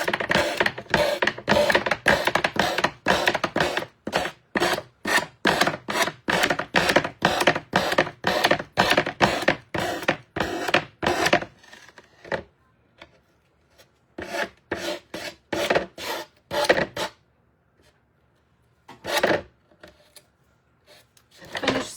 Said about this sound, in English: Finish sanding this.